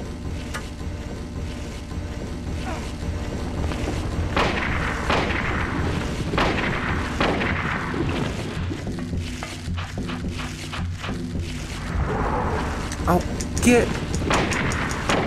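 Gunshots from the player's weapon in the survival horror game Silent Hill 1 boom out several times over a dense, noisy game soundscape, with a brief spoken word mixed in.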